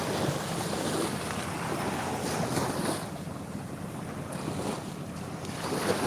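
Sea waves wash steadily at the seaside while wind buffets the microphone, a continuous broad roar with no voices.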